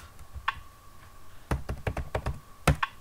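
Keys clack on a computer keyboard as a command is entered in the IFSCL game, a few scattered taps followed by a quick run of crisp, close keystrokes.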